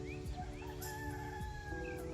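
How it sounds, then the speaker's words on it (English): Roosters and chickens of various breeds in a grandmother's backyard give brief, faint clucks and short crowing calls over a low, steady background hum. "like different breeds of roosters and chickens"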